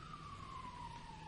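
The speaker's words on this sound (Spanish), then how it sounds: "Disculpen la sirena," An emergency vehicle siren wails outside, a steady, gradually falling tone heard faintly at a distance over a continuous background hiss.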